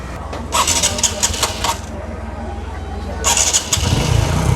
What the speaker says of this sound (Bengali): এখন বাইকটা স্টার্ট করে দেখবো যে মাইলেজ কতটুকু দেয়